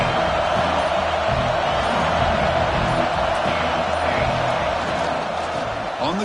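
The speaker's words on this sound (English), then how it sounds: "this home crowd is fired up and ready to make a difference today" Home crowd at an NCAA football game, a steady, loud stadium roar filling the whole stretch without letup, dense and distant in texture.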